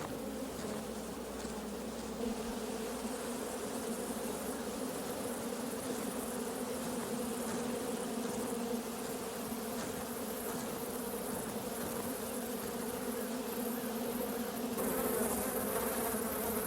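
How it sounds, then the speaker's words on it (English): Honey bees swarm around a hive in a honey tree in a Louisiana swamp, a dense, steady drone of many wings holding at an even level throughout, close and continuous with no voices. "a group of bees have left and are swarming around the second queen"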